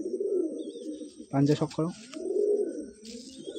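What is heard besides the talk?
old Madras pigeon cooing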